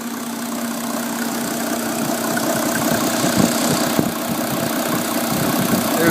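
A Mercedes 350SDL diesel engine idles steadily with fuel circulating through its system, a close, loud, even rumble with a faint knocking texture and no talking.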